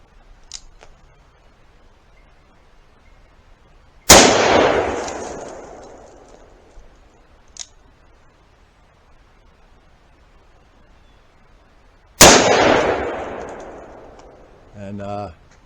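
Two loud, sharp revolver shots from a Colt Trooper Mark III firing Remington 125-grain jacketed soft point .357 Magnum rounds, spaced about eight seconds apart, each with a ringing decay, with faint clicks between and a brief voice at the end.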